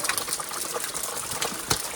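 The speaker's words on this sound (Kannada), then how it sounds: "ನೀರು ಕಡಿಮೆ ಬೀಳ್ತಾ ಇದೆ" Sandur waterfall, running low on water, gives a soft, steady rushing wash of falling water with no voices.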